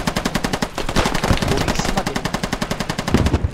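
Rapid automatic gunfire in the military shooter game Squad rattles in a steady, fast stream of bursts, loud and continuous for several seconds, with no voices over it.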